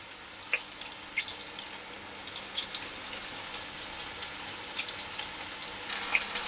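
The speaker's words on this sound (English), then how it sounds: "I've patted that meat dry. and I'm going to brown it on all sides" Beef browning in a pan, a steady soft sizzle with scattered sharp pops and spatters, fairly quiet and close, with no talking.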